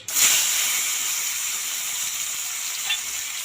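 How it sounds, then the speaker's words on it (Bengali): Chopped tomato sizzles loudly in a little oil in a wok, a steady bright hiss close up that flares at the start and holds evenly throughout. "কড়াইতে অল্প একটু তেল দুই চামচের মতো তেল দেওয়া লাগবে এরপর ফার্স্টে টমেটো কুচি"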